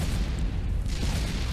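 A tank destroyed in the World War I trench game Warfare 1917, a dense rumbling boom of explosion and battle noise, loud and continuous, with no talking.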